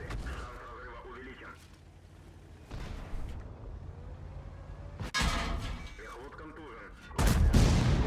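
Tank guns fire in the online battle game World of Tanks, sounding as three heavy, sharp booms spaced a few seconds apart, the last one loudest, over a low rumbling battlefield bed while someone talks.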